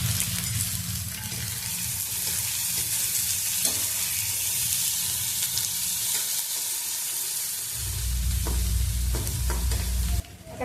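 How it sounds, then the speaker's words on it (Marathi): Finely chopped onion frying in oil in a kadai until golden, a continuous close sizzle with stirring scrapes and a heavier low rumble in the second half. "कांदा चांगला गोल्डन कलर येईपर्यंत आपण भाजून घ्यायचा आहे।"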